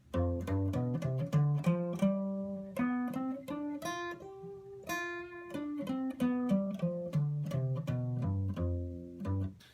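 An electric guitar plays a bright, melodic lick of quick picked notes and sustained bends, unaccompanied and close.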